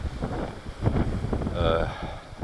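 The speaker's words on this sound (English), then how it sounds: "Anyway, it's windy here." Wind buffets the microphone in a steady low rumble throughout, loud and close, with a faint whining tone in the middle.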